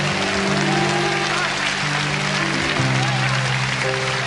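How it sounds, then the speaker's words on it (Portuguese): A church congregation applauds the Lord during a morning service, giving steady, continuous clapping over a held musical backing and a low hum, loud and filling the room. "Será que você pode aplaudir ao Senhor nesta manhã?"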